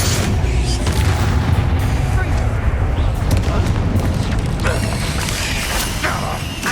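Fiery spell blasts booming and crackling in Hogwarts Legacy combat, a dense continuous roar of magical explosions with mechanical clanks layered over a loud, busy game soundtrack.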